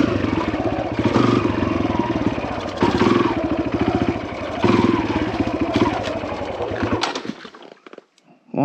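A Kawasaki KLX140RF dirt bike engine runs rough, a close, loud, uneven chugging idle that surges in a few waves, then cuts out near the end.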